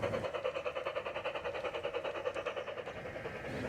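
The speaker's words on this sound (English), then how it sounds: "The train is passing over a long trestle here." A garden railroad model train rolls over a long acrylic trestle, giving a steady rhythmic clicking of wheels over joints with a sustained mechanical hum, fairly close and continuous with no talk.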